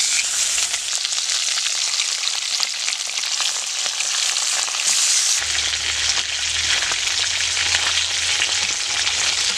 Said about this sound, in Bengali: সেমভাবে আমি বাকি মাছ কটাও ভেজে নিচ্ছি।